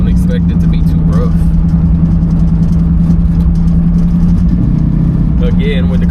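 A 1965 Ford Mustang convertible drives with the top down, its engine a steady low rumbling drone that runs loud and close throughout, with a voice talking over it.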